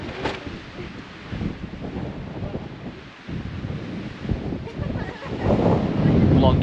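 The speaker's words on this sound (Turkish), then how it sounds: "Bu nasıl rüzgar arkadaş?" Strong gusts on Fuego volcano roar and buffet the microphone in loud, rolling surges that dip briefly and then build again.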